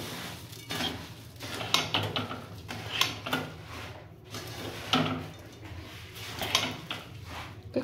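Jaggery mixture stirred in a pan with the gas turned off for gur moya: irregular scraping and knocking strokes of a spoon against the pan, close and moderately loud, with no talking.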